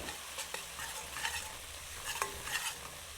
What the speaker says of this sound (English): I'll cook this for about 5 minutes until the curry separates from the oil